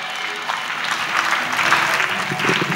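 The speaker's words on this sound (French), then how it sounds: "Acclamation à Jésus. Clap for Jesus" A congregation claps steadily for Jesus at an outdoor evangelism meeting, dense sustained applause filling the whole stretch at an even, lively level with a faint crowd murmur underneath.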